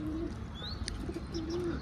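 Pigeons kept in a loft make soft, low coos while they feed on scattered wheat grain, the cooing fairly steady and continuous with a few faint higher chirps over it.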